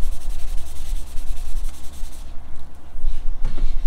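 The wooden limb of a 1967 Ben Pearson Sovereign Mace recurve bow being sanded by hand, a loud, close, rhythmic rasping rub repeating in quick back-and-forth strokes.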